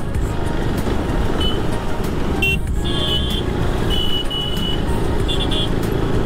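Dense road traffic rumbles steadily around a rider on a superbike group ride in India, with a continuous broadband engine and road roar, a couple of brief high horn-like tones, and no clear speech.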